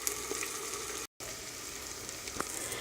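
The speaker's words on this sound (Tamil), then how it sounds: "அப்போ தான் சிக்கன் வந்து நல்லா எண்ணெயிலேயே சுருண்டு வேகும்." Pallipalayam chicken fries in oil in a covered pan, a steady soft sizzle with scattered pops and crackles, interrupted by a brief moment of silence before the frying noise resumes.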